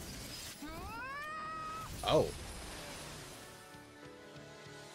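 A reality-shattering effect in the video game Tales of Arise, a sharp glassy crash over rising whooshing game sounds, with a brief spoken exclamation.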